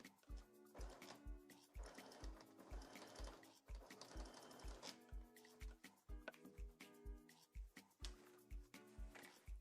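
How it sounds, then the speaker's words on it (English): A sewing machine runs a long top-stitching seam on pants fabric, its needle thumping in a quick, steady rhythm with brief pauses between bursts, fairly close. "All right, so now I am top stitching."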